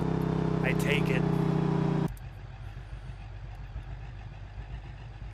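A muscle truck's engine in the BeamNG driving simulator holds a loud, steady droning hum for about two seconds, then drops abruptly to a lower, rougher rumble.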